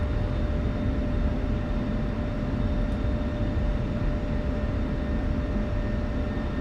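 An aircraft rolls on the runway after landing in the DCS flight simulator, giving a steady, dense engine roar with a constant droning tone and no breaks.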